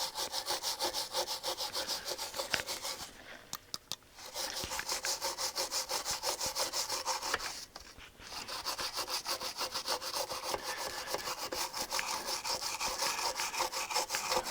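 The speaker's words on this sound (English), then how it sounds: "I'm just going to give this a good scrub." Brush scrubbing brown residue off the solder connections of a circuit board in a Harman Kardon HK 580i receiver, a steady close rasping back-and-forth scrub with two brief pauses.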